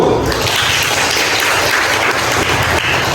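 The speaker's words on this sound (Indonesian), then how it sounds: "kita beri aplaus untuk kelompok 1" Applause from a classroom of students for a student group presenting in a biology lesson, steady clapping throughout the short burst with no talk over it.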